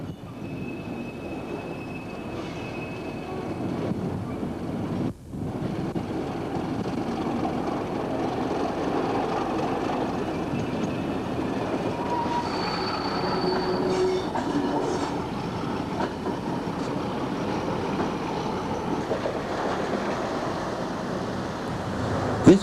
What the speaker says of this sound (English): Class 31 arrives with 3 cargo wagons.